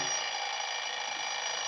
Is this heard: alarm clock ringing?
yes